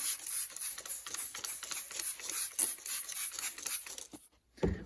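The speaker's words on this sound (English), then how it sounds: "start sanding with our 1000 grit" A car headlight being wet sanded with 1000 grit sandpaper, a steady close rasping rub in quick back-and-forth strokes for several seconds, stopping briefly near the end.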